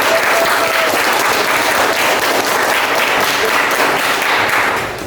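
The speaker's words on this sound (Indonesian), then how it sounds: "Oke, beri tepuk tangan." A classroom of students applauds together after a biology lesson, steady dense clapping filling the whole stretch at close range, tapering slightly at the very end.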